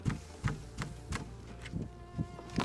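A honeybee swarm buzzes faintly as it is captured into a Hive Butler, with a soft continuous hum broken by a series of regular dull knocks.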